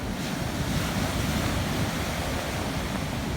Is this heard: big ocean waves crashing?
yes